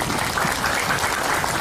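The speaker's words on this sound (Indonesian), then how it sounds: "Tepuk tangan untuk Bumi Ayu." Steady clapping from an audience at an Islamic boarding school anniversary celebration, dense and continuous throughout without pause.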